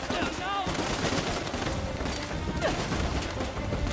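Gunfire in the video game Uncharted: The Lost Legacy, a steady dense fusillade of shots and impacts filling the whole stretch, loud and continuous, with characters shouting over it.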